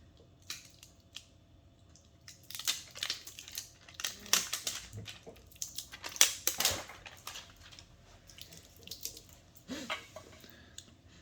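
A sticker is peeled off a Casio G-Shock G-Steel GST-B300SD watch, heard close and quiet as scattered crackles and scratchy tearing bursts that come in uneven clusters.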